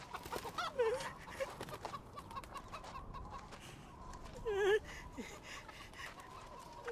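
Chickens offered for sale cluck in two short bursts, one near the start and one later, faint and somewhat distant, against low background noise.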